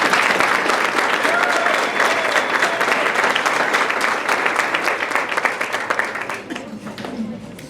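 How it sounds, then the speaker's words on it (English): A large crowd at an athletic awards evening breaks into loud, continuous applause, dense clapping that stays strong before easing slightly in the final second, with faint voices mixed in. "if we can just start off the evening with a huge round of applause for all of their efforts"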